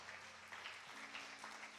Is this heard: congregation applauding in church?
yes